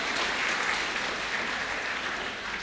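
A crowd applauds steadily at a Politeknik Pekerjaan Umum graduation ceremony in Semarang, a dense wash of clapping that stays loud throughout and eases only slightly at the end.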